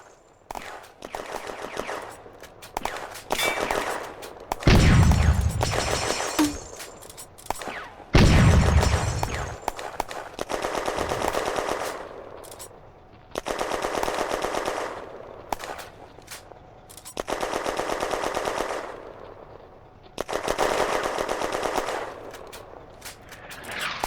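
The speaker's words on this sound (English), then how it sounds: "The light mortar opens a fire mission from 315 meters." Light mortar fire and gunfire in the Firefight war video game, set in May 1940: bursts of machine-gun fire and rattling volleys recur throughout, punctuated by two heavy booming mortar impacts, loud and dense.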